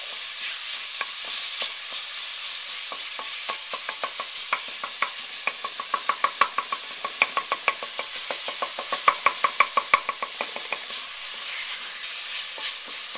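Crumbled sausage cooking in a pan for a mushroom ragu, a steady close sizzle with a rapid train of light scraping stirs and knocks building in the middle, then easing back to plain frying; nobody speaks.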